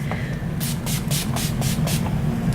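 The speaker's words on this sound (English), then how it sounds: "I'm going to spray my face with the Urban Decay All Nighter Spray" Several quick bursts of fine mist from an Urban Decay All Nighter setting spray pump bottle onto a face, about five or six sprays in a steady rhythm, close up over a low background hum.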